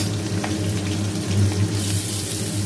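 Mustard seeds, urad dal, curry leaves and green chilies fry in hot oil, giving a steady close sizzle and crackle with no talking.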